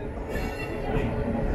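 Train rolling into Nagercoil Junction station aboard the 20691 Antyodaya Express, unreserved coach: a steady, loud interior rumble of wheels and carriage with low rattling throughout, no voices.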